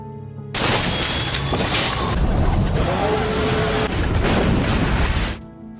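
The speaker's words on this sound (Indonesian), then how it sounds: "pesawatnya akan jatuh" A plane's engine in a film as the aircraft catches fire and falls, a loud, dense roar that bursts in suddenly, holds for about five seconds with rumbling and whining layers, then cuts off.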